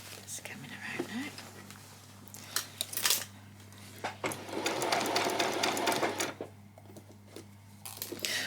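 Domestic sewing machine stitching a peasant skirt, a continuous hum with several short runs and a longer stretch near the end, heard under soft, quiet talk.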